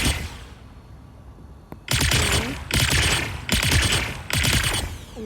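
Mech weapons in the Mech Arena video game fire several loud, sharp bursts of rapid gunfire with short pauses between them, following a quieter stretch of mechanical background noise.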